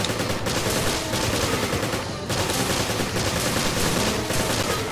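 Dense, sustained gunfire from long-range enemy shooters in a video game, a continuous rattling barrage with only a brief dip partway through, loud and without speech.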